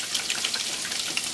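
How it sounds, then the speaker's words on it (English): Eggs being whisked in a bowl for breakfast, a brief, fast, even patter of light wet clicks, close and moderately loud. "Whisk it together."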